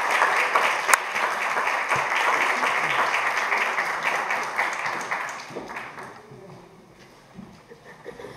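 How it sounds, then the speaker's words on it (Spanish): A theatre audience applauds the invited guests of a production of Antígona, a dense sustained wash of many hands clapping that gradually thins and fades to scattered claps near the end. "les pedimos un aplauso para nuestros invitados"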